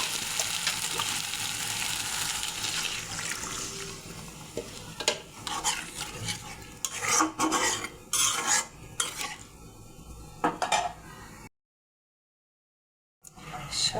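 Spice paste being fried and stirred in a pan for a Bengali fish curry with peas, close-up sizzling with repeated scraping and clinking of a spoon against metal, steady throughout with a brief silent gap near the end.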